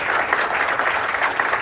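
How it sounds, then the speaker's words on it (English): Applause from an audience gathered at a golf charity event, a dense, steady burst of clapping heard close and alone throughout. "big round of applause for all of you being here today."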